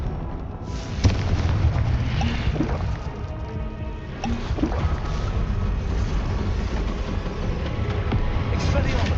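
Repeated Confringo fire spells from Hogwarts Legacy burst amid a dense, constant rumble of game effects, with sharper blasts near the start and again midway, while a voice repeatedly calls out spell names over the din.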